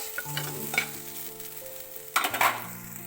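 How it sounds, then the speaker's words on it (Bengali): Potatoes frying in a pan, a soft continuous sizzle broken by scraping stirs and a louder burst of stirring near the end, with a low steady hum behind. "এখানে বানাচ্ছি একটু আলু ভাজা জাস্ট"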